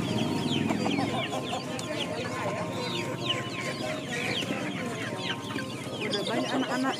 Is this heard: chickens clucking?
yes